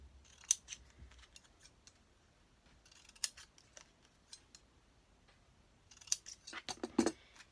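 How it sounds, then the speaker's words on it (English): Scissors snip through folded paper to make a paper pinwheel, with a handful of quiet, sharp cuts spaced apart in a still room and a quicker flurry of snips near the end. "you're going to go from the corner, cut about 3/4 of the way in"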